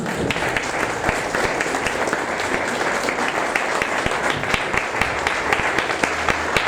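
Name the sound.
applause for Jesus in church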